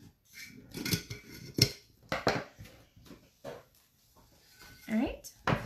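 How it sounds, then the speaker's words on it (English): Several crisp snipping cuts of standard scissors through fabric, irregularly spaced, with a person talking in between and over them. "And these are just standard scissors, nothing fancy."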